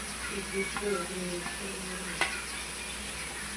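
Turmeric powder stirred into a sizzling pan for Konkani chicken, a steady close frying hiss with light stirring scrapes and one sharp utensil tap near the middle.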